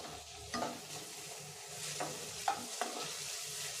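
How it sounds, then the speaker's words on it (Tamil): Onions and tomatoes sauté in a pan for chana kurma, a quiet sizzle broken by several sharp scraping stirs of a spoon, heard close with no talk. "இப்போ இது எல்லாத்தையும் நல்லா வதக்கி விட்டுடலாம்"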